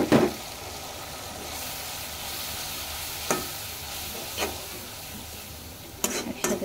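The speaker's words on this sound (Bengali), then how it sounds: "একসাথে দিয়ে ভালো করে ভালো করে কষাতে দেব।" Mixed meat fries in a pan with coriander powder, chili powder, cumin, garam masala and turmeric. A steady hiss of sizzling oil runs throughout, broken by a few sharp stirring knocks near the start and end.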